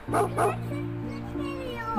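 Small dog yips and short barks near a playground park where children are playing, a few quick bursts at the start followed by a steady low hum.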